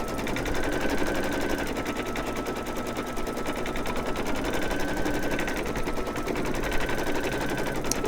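An embroidery machine stitching down an applique piece on an in-the-hoop monster doll makes a fast, continuous mechanical rattling at a steady rhythm, loud and close, with no talking.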